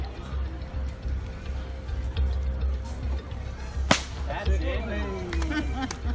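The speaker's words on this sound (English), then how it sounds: "He's nearly going to knock himself over when he whips." A single sharp whip crack rings out from a whipcracker at an outdoor market in Darwin, amid crowd murmur and voices talking nearby.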